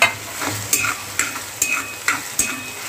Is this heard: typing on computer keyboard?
no